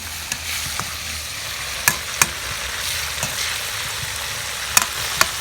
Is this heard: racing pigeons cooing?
no